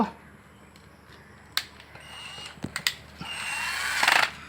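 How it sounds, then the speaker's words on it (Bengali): A nut is tightened on a house wiring fitting for a light and fan circuit, giving faint metallic clicks and scrapes followed by a brief ratcheting rasp near the end, all quiet and close. "এখন আমরা নাটটা টাইট করে দিব"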